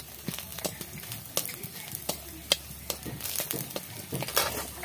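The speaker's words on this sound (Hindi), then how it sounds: "अब हमारा मिर्ची फ्राई हो चुका है।" Dried chillies frying in oil in a pan over a village cooking fire, a steady low sizzle punctuated by sharp scraping clicks of stirring at irregular intervals.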